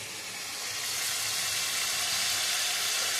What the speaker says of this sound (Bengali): দেখো এই যে মাছগুলো ভাজা হচ্ছে